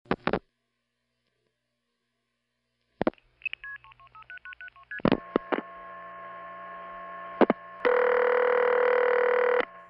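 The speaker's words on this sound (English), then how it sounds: "After I would dial the last digit, I'd hear something like this." Telephone network tones after the last digit of a prefix is dialed on an old phone line: clicks, a falling and rising sequence of short beeps, then a steady, loud multi-tone signal holding to the end, with no talk.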